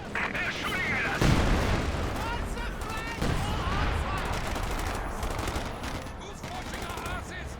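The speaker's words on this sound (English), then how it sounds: "They're shooting at us." Company of Heroes 2 battle with dense, continuous gunfire, rattling machine-gun bursts and heavy booms layered throughout, and a commentator talking over the din.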